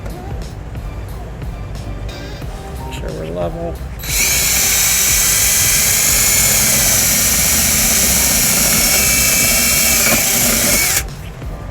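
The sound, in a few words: power drill drilling into Kia Sorento for trailer wiring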